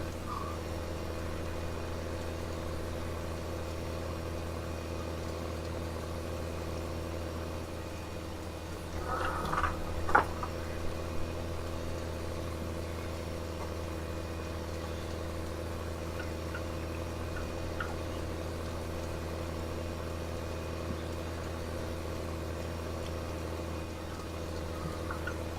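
A tractor engine runs steadily in the rain, a low constant drone with a faint rattle of rain, and a brief knock or clatter partway through.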